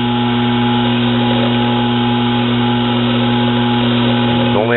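Metal lathe turning a nut held in reversed chuck jaws while a cutting bit works it, making a steady humming, whirring tone throughout with a brief change near the end.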